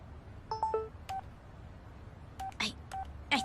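A cell phone keypad gives out a series of short dialing tones, clean electronic beeps in irregular groups against a quiet background.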